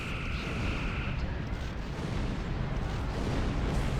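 Weapons fire from a starship in the space game Star Trek Online as it destroys a fleeing Klingon ship, a dense continuous rumble of blasts and booms that stays loud and steady throughout, with no talk.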